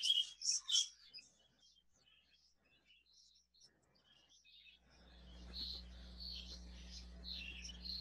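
Budgies chirping in a breeding room, a few sharp close chirps at the start, then quieter scattered tweets over a low steady hum from fans or equipment.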